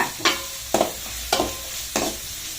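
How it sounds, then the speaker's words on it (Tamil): Green chillies sautéed in a pan for potato masala give a steady soft sizzle, broken by four sharper scraping stirs at regular intervals. "பச்சை மிளகாயும் போட்டு கொஞ்ச நேரம் நல்லா வதக்கணுங்க."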